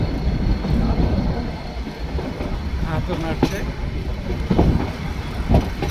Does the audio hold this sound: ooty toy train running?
yes